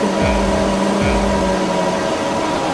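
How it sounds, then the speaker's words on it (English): F1 2020 video game car engines revving at the grid before the Austrian GP race start, a loud steady mechanical drone with two rising rev sweeps early on, under sustained engine hum. "Okay, revs are up."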